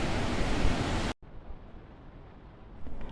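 Surf at a Madeira spot: a loud wash of breaking waves cuts off abruptly, then a fainter steady roar of sea and wind continues.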